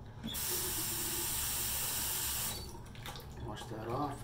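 A shaving razor is rinsed under a running bathroom tap: a steady, close rush of water hissing for about two seconds, then stopping, leaving quieter handling sounds.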